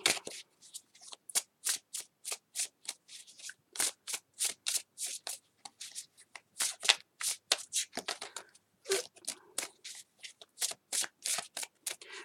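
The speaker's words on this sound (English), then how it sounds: "I'm taking extra care in doing your shuffle" Tarot cards are shuffled again and again in quick riffling bursts, close and crisp, with short pauses between each pass and no talking.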